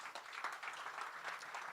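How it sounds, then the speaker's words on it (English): Audience applause after lightning talks at a conference, a steady wash of clapping from a crowd filling the room at even loudness throughout, with no voices over it. "round of applause for you guys"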